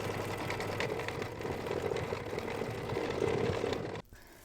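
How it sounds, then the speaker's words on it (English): An embroidery machine stitching the letter T on a monthly mug rug project, a soft continuous mechanical whir with rapid needle rhythm, fairly quiet and close, cutting off abruptly near the end, with no talking. "I will be back when this is done stitching"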